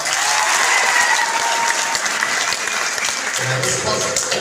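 Loud, sustained applause from a crowd at a Guru Purnima celebration, with many hands clapping steadily throughout and no break.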